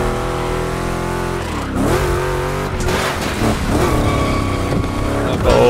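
A car drifts in The Crew Motorfest racing game, its engine loud and revving in rising and falling sweeps through gear changes, with tire squeal building toward the end.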